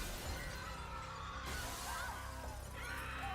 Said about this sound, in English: The crack on the glass floor begins to spread.